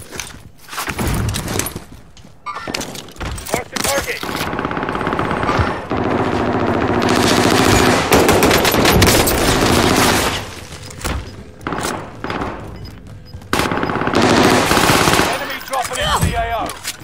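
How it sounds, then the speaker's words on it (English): Sustained automatic gunfire and shots ring out in a video game as the player takes hits from above, dense and loud bursts continuing almost throughout with brief dips and booms. "I'm getting shot from the top"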